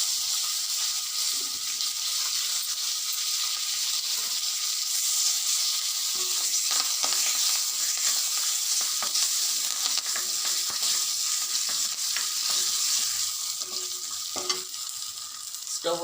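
Curry leaves fry in hot oil with a dense, continuous crackling sizzle, close and steady throughout, with faint scattered pops and clinks near the end.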